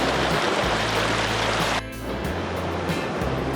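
Hot spring water at Sunbeam Hot Springs pours and rushes in a loud, continuous wash close by, dipping briefly partway through before the steady roar returns.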